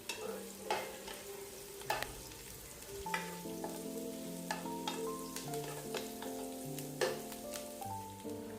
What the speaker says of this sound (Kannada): ತುಪ್ಪ ಒಳ್ಳೆ ಬಿಸಿ ಆದಮೇಲೆ ಕರಿ ಲೀವ್ಸ್ ಹಾಕಿ, ಮತ್ತು ಒಂದು ಈರುಳ್ಳಿ ಹಾಕಿ ಒಳ್ಳೆ ಫ್ರೈ ಮಾಡಬೇಕು ಇದನ್ನು.